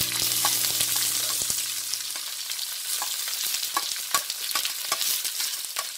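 Diced shallots sizzle and crackle as they are stir-fried in plenty of lard, with a steady frying hiss and scraping stirring strokes up close.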